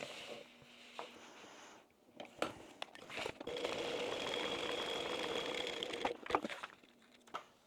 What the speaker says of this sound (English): what we're going to do now is sew around there using the side seam at the side